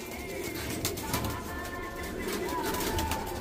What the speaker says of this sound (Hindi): उड़ा कबूतर है भाई ये